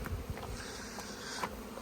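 Honeybees buzz around a hive, a faint steady hum of many insects close by with no voices.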